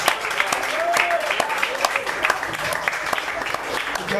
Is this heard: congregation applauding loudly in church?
yes